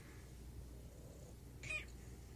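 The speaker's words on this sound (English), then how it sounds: "So she's humming and purring and squeaking." A pet cat gives a brief squeaky chirp over a low, steady rumbling purr, the sounds close and fairly quiet.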